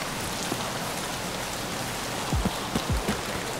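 Steady rain falls in the video game Escape from Tarkov, a dense, even hiss across the whole stretch, with a few low sliding thuds near the end.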